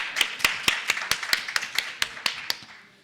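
Hands clap at a panel event as a speaker is welcomed: about a dozen crisp, evenly spaced claps, close and distinct, trailing off at the end.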